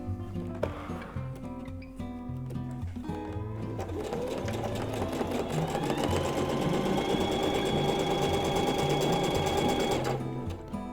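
A sewing machine sews a straight seam on fabric slippers, starting with short stop-and-go stitches and then running steadily and loudly for several seconds before stopping, close and with no talking.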